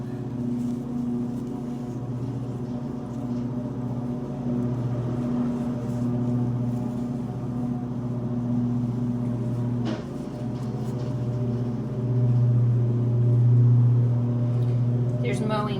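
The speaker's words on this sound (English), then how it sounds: "There's mowing going on outside the window" Lawn mower running outside a window, a steady low engine drone that persists throughout, slightly louder toward the end, heard from indoors with no talk.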